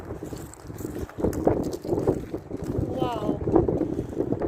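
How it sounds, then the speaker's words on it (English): Strong wind blusters across a factory rooftop high above Detroit, a steady roaring rush buffeting the microphone, while a person exclaims briefly. "Oh, this wind."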